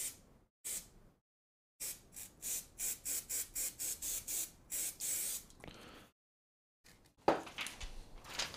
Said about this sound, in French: Je vais utiliser du spray adhésif.